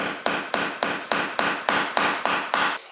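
A heavy hammer punches through the metal of an ARB roof rack being fitted to a Subaru Forester: about eleven loud, ringing blows close by, struck at a steady, quick rhythm with no talking.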